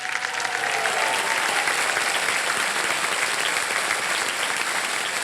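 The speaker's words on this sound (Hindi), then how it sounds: "तालियां बज जाएं इनके लिए।" Sustained studio audience applause for a contestant on Kaun Banega Crorepati, a broad, steady wash of clapping that holds evenly loud from start to finish with no voices over it.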